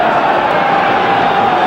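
A football crowd at Upton Park before kick-off of a 1974-75 East London derby between West Ham and Orient, a dense steady murmur of many voices, loud and continuous over a short stretch.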